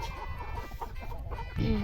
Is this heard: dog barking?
no